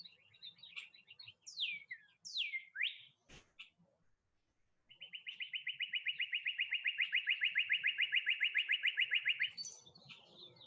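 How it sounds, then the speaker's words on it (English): A bird singing outdoors, first with several quick chirps and sweeping whistles, then after a brief pause a long, even, rapid trill that carries on for about five seconds, clear and fairly close, with no speech. "Got a very happy bird out there."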